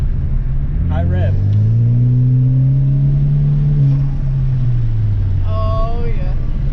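A car engine revved high in an attempt to produce turbo flutter, a loud sustained rising-and-falling drone with a few faint voices talking over it.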